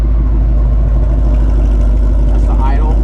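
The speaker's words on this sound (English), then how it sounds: "That's the idle." A Ford Mustang with 305 rear tires sits idling, its engine giving a loud, steady, low rumble that fills the whole stretch without pause.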